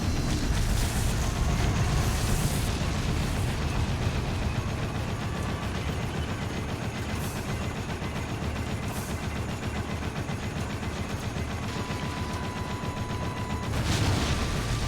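Missiles and gunfire in the Dead Rising video game: a sustained barrage of rapid shots and blasts, dense and continuous, with a louder burst of explosions near the end.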